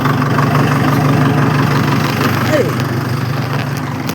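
A loud, close diesel tractor engine idling with a steady low rumble and rhythmic throb, continuous from start to finish, with brief speech over it.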